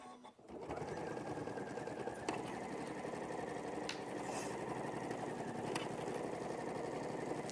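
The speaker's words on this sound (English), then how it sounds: "just going to sew all the way around that pocket" Sewing machine running steadily while stitching all the way around a pocket, a continuous close mechanical whir from start to finish with a few faint clicks.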